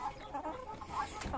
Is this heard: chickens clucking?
yes